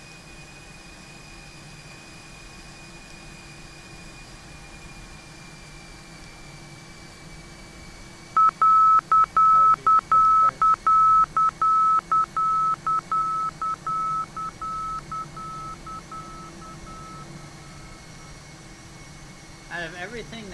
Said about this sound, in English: Out of everything that had to be loud, it had to be the freaking outer markers